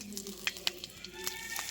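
A whole bay leaf sizzling in hot white oil in a wok, giving a soft, faint hiss with a few small crackling pops, brief and alone without speech.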